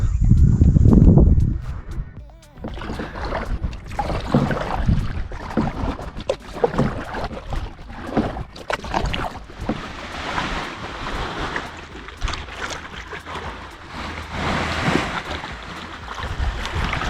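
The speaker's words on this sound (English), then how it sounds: "We're gonna head back out on the kayak now." Paddle strokes splash and dip as a kayak moves across the sea off a Thai island, irregular watery swishes under wind and gentle wave noise after a brief loud rumble at the start.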